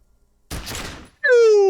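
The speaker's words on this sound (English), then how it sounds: "The sound of the explosion from your gun echoes all over Martinez." A gunshot in a video game sounds as a short burst of noisy blast after a moment of silence, followed by a loud bright ringing tone that sustains to the end.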